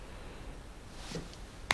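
A single crisp finger snap near the end, sharp and isolated after a quiet stretch.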